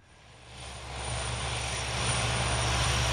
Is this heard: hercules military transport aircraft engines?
yes